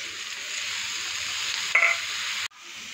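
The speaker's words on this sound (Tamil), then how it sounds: "காலிஃப்ளவர் வந்து நல்லா வதக்கியாச்சு" Cauliflower is sautéed in a pan with a steady, close hiss of sizzling oil. A brief stirring scrape comes partway through, then the sizzle cuts off abruptly and resumes more quietly.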